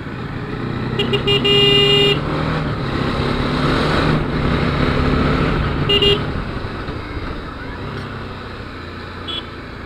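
A motorcycle runs steadily along a road with its rear tyre going flat, its engine droning under passing traffic, with several car horns honking nearby.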